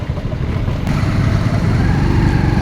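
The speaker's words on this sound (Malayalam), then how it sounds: "ഒരുപാട് ബൈക്ക് പോകുന്നുണ്ട്." Many motorcycles passing on a road in Kerala, a loud continuous blend of engine drone and traffic rumble close by, without a break.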